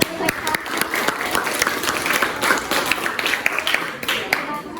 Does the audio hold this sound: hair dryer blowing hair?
no